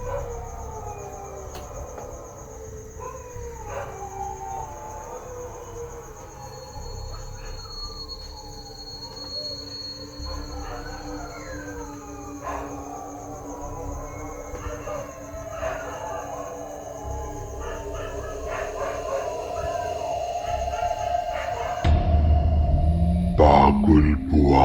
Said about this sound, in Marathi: रात्री 12 वाजता कुत्र्यांच्या विव्हळण्याचा आणि रडण्याचा आवाज येत असतो